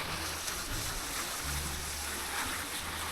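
Fast, swollen stream in the rainy season, murky floodwater rushing along a trail toward a waterfall: a steady broadband roar of flowing water, fairly faint and even throughout, with no voices.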